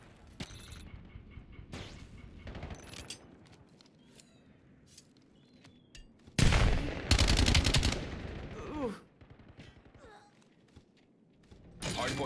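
Bursts of automatic gunfire rattle in a Black Ops 7 ranked Hardpoint match, with scattered single shots and short volleys and then a long, loud sustained burst in the middle, under occasional game voice lines.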